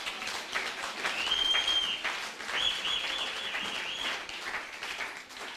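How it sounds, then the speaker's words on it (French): Church congregation applauding during a Sunday worship service, a steady wash of many hands clapping for several seconds with no speech over it. "Acclame encore le Seigneur pour ça."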